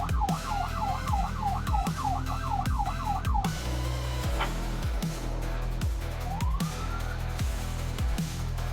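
A police car siren wails in rapid cycles during a pursuit, loud and close, then gives way to a rushing engine and road noise with a brief rising whoop later on.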